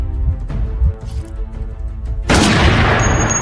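A sniper weapon fires in a video game with a sudden, loud booming shot partway through, set against a low, rumbling game background.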